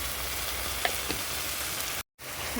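Masala of spices and turmeric fries steadily in hot oil while being cooked down, giving a continuous close sizzle with a few small pops and one brief dropout near the end.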